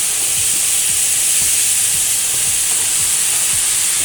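Six hundred grams of mince cooking in a pan gives a loud, steady hissing sizzle that barely changes, with faint low knocks repeating at regular intervals beneath it and no talking.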